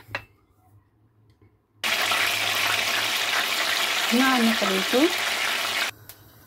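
Eggplant fries in hot oil with a loud, steady sizzle that starts suddenly after a near-silent opening and cuts off abruptly toward the end.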